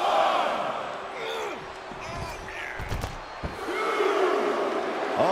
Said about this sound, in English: Uncle Howdy getting the crowd riled up right now